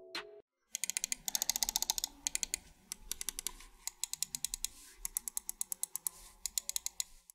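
Rapid, crisp ROCCAT gaming mouse-button clicks in quick bursts, close and fairly quiet, with short pauses between runs of clicking.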